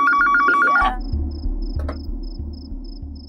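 A landline telephone rings in a home, a couple of bright electronic ring tones up front, then a soft repeating ring pattern continues more faintly over a low steady hum.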